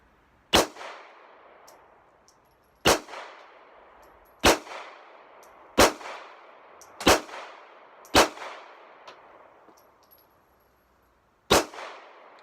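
Seven sharp pistol shots from a small .380 pocket pistol firing Fiocchi ammunition at an outdoor range, each crack standing alone with a short ringing tail and pauses of one to two seconds between them.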